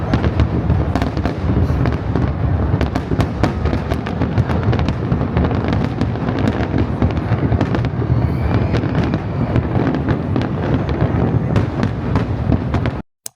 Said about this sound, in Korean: 브루클린 브릿지 근처에서 이제 불꽃놀이를 한다고 해서 여기 근처에 보러 왔어요.